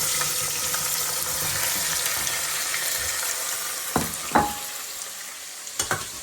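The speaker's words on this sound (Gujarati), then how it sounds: "થોડી વાર એને તેલમાં આમ જ રહેવા દેવાનું ભીંડાને." Okra sizzles steadily in hot oil with cumin and asafoetida in a pressure cooker, a dense continuous frying hiss with a few sharper clatters of stirring toward the end.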